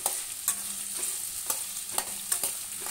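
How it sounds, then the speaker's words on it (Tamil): Cumin and black pepper sauté in a pan for fish curry: a soft, steady sizzle broken by rhythmic spatula scrapes roughly every half second, close by, with no talking. "நல்லா வதக்கி விட்டுக்கலாங்க."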